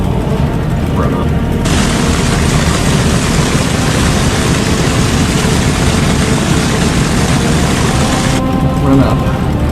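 A propeller aircraft's engine runs up before takeoff. A loud, steady, broadband roar holds at high power for several seconds and then drops back to a lower rumble, heard from the cockpit.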